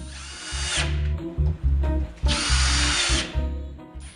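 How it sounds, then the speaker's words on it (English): A power drill whirs in two long bursts, spinning up and driving wood screws into wood, with shorter motor pulses and a low rumble in between, close by. "The final step in attaching the post is to drill in the 4 wooden screws as shown"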